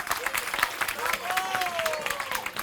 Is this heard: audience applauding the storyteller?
yes